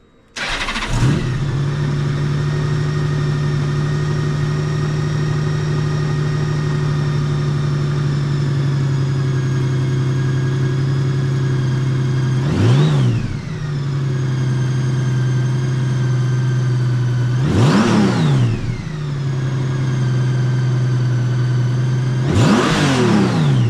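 A 2009 Honda GL1800 Goldwing trike's engine idles with a steady low drone, broken by three sharp revs spaced a few seconds apart, each rising quickly and settling back to idle.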